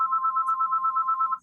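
A mobile phone sounds a steady, pulsing electronic tone that holds one pitch for over a second and then cuts off, clear and alone with no talk.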